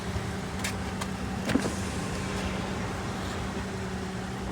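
A Nissan Altima SE engine idles steadily while warming up, a low, even hum heard from close by. A few faint clicks or knocks rise briefly above it, with no talking.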